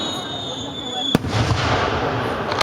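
A Civil War cannon-fire sound effect: two sharp, loud blasts about a second and a half apart over a constant rumbling background, with a voice speaking over it.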